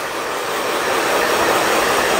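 A hair dryer blows after a layered haircut at a salon, a loud steady whooshing roar that holds constant and close throughout, with no talking.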